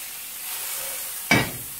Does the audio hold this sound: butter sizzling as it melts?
yes